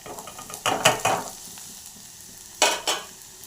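Leafy greens are stirred in a pan with browned onions. A soft, steady frying sizzle runs throughout, broken by a few sharp scrapes and clatters of the spoon in two short bursts.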